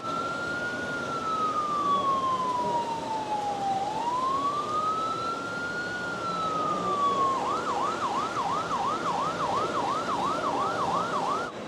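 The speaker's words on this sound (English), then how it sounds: "Activate a fire alarm, fire truck lights, and sirens." Electronic sirens on a computer-controlled model train layout's fire trucks wail steadily: first a slow rising and falling sweep, then a fast repeating yelp that carries on to the end against a constant background hum.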